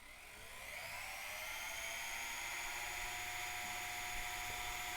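A working 1:72 scale Mi-8T model helicopter with its rotor driven to full throttle: a high, thin electric whine that climbs quickly in the first second, then holds steady and close with no talking over it.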